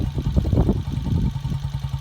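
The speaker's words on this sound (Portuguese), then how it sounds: "eu vou desligar ela para que o barulho do escapamento não atrapalhe o áudio aqui" A 1980 Honda FS 125 motorcycle idles close by, its small single-cylinder engine putting out a steady, lumpy exhaust putter with fast regular pulses and no voices.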